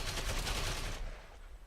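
Sustained rapid gunfire from a scoped rifle in the online shooter Ghost Recon Online, a dense burst of close, loud shots for about a second before the firing cuts off into a quieter tail.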